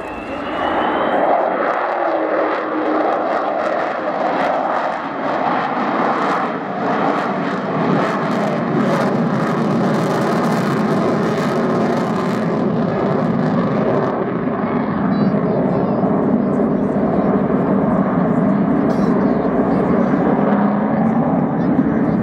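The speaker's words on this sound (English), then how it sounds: "The power coming on those engines," A powerful aircraft climbing in a spiral at an air show roars loudly and continuously with a rising, shifting engine tone, while a public-address commentator talks over it throughout.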